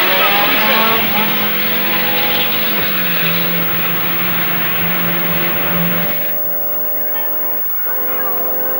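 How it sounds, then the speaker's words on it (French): An Alpine race car's engine revving loudly at the start of the 1966 Targa Florio, a sustained droning roar that shifts pitch and then fades, heard under excited French commentary. "Et maintenant, c'est le départ pour Michel Vaillant sur l'Alpine Vaillant numéro 72 qui porte tous nos espoirs"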